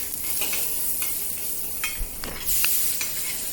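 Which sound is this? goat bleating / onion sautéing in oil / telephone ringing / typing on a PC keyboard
onion sautéing in oil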